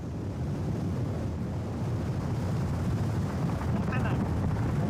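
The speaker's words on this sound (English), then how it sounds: "The microphone boom is almost blown away by the wind." Strong wind roars and buffets the microphone steadily on an open plain, a loud, continuous low rumble that never lets up.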